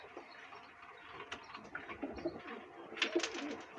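Pigeons cooing softly in a backyard loft, low murmuring calls repeating under faint background noise, with a few sharper chirps near the end.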